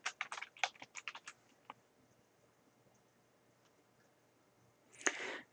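Fast bursts of computer keyboard typing while a PowerPoint 2013 title slide is being labeled, a quick run of close key clicks at the start, then a quiet pause and a louder final clack.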